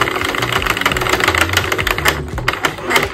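Sentro knitting machine cranking out a row for a cropped tank top, a dense, continuous clatter of rapid mechanical clicks and rattles, close and steady throughout with no voice.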